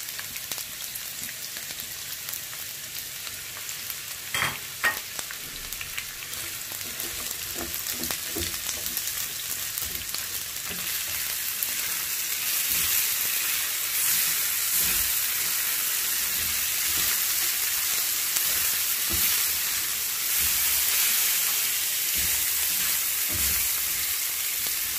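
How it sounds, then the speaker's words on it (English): Onions fry in hot cooking oil, a close hissing sizzle that grows louder and denser after the first seconds and keeps crackling steadily, with a few light knocks early on. "So once our oil is heat enough, I will add in"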